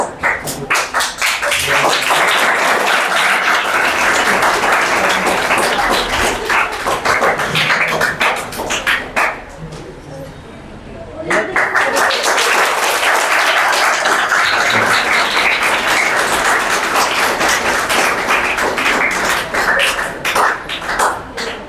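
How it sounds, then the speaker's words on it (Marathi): An audience at a children's singing competition event applauds loudly and continuously, rhythmic clapping that briefly drops to a quieter lull midway before surging back to full strength. "टाळ्यांचा गजर सांगतोय काहीतरी."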